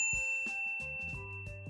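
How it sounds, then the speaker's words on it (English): A bright notification bell dings once, then rings out in a few layered chime tones with a sustained metallic tail, clear and close with no voices. "ring the bell to be notified about our latest videos"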